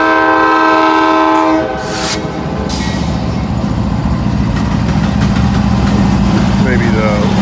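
Norfolk Southern mixed manifest freight train rolling past on a CSX line on a rainy day, a loud horn blast opening over the heavy continuous rumble and wheel clatter of passing cars, very close, with brief talk.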